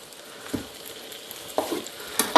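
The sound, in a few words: potatoes frying in a pan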